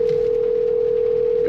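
A steady electronic phone-call ringback tone from a car radio holds unbroken at one pitch, clear and fairly loud over faint background hiss.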